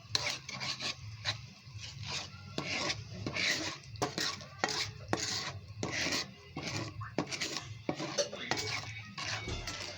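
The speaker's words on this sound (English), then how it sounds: "So keep on stirring." Honey garlic butter sauce being stirred over low heat, a utensil repeatedly scraping and rubbing against the pan in a steady rhythm, close and fairly loud.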